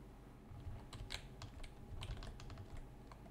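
Keys pressed on a computer keyboard, Alt combined with the arrow keys, giving a quick series of soft, close clicks and taps in an irregular rhythm, quiet and without speech.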